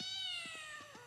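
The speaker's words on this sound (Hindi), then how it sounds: "अबे बिल्ली होती है" A single cat gives a few clear, drawn-out meows in quick succession, fairly quiet and close, with no talking.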